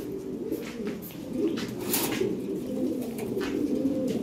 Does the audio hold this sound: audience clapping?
no